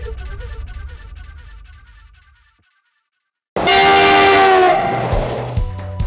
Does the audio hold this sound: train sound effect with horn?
yes